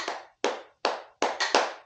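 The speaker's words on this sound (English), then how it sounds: "Clap hands rhythm" Bare hands clap out a rhythm: six crisp, close claps with short decays, two spaced beats, a pause, then a quicker group of three at the end, with no voices.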